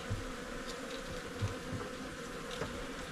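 Honey bees buzz loudly and continuously nearby at an open hive with a drone-laying colony, a dense droning hum with no voices.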